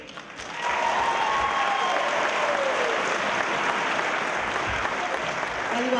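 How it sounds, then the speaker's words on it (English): A concert crowd breaks into applause for a singer, the clapping swelling in after a brief moment and holding as a thick, steady roar to the end. "How about a round of applause, and I want you to give her some love."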